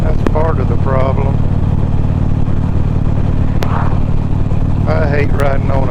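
A motorcycle rides over a freshly chip-sealed road with a loud, constant engine drone and tyre and gravel noise, while a rider talks over it throughout.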